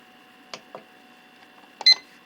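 A YIHUA 946A-III LCD screen separator is switched on, giving a few faint clicks followed by one short, clear electronic beep close by in a quiet room.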